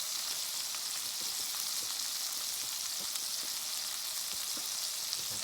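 Burgers sizzle on a portable 9-inch Blackout Stove, a steady, even crackling hiss of frying fat with small scattered pops throughout, heard alone without talk.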